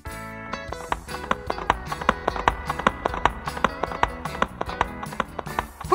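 Horse hooves clip-clop in a steady, even rhythm of sharp, close knocks that repeat throughout, standing alone with no talking.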